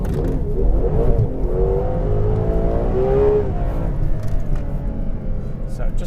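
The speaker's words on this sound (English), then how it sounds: "the rear tyres are spinning" A Ferrari 812 Competizione V12 revving on the Fiorano track with its rear tyres spinning; the engine's rising and falling whine stays under someone talking nearby.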